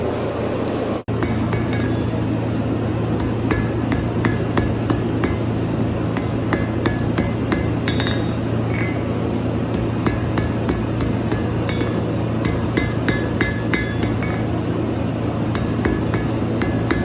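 A blacksmith hammers hot steel on an anvil, making a steady series of sharp metallic ringing strikes, loud and close over a constant low hum, with no talking.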